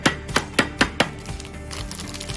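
Five sharp, heavy thuds land in quick succession as a meat tenderizer pounds and crushes a granola bar, followed by quieter rustling and crunching.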